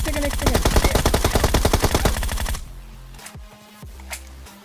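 Battle royale video game gunfire: a dense burst of rapid automatic shots for a couple of seconds, then quieter scattered shots and in-game effects afterward.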